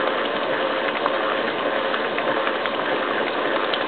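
An electric mixer churns goat's milk into butter, a loud continuous whirring, rattling motor drone with a steady gritty mechanical texture, close and with no voices.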